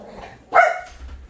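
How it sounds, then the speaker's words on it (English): A dog indoors on a farm lets out one loud, sharp bark up close, with a faint low rumble after it. "the dogs outside are barking, and that's making these bark."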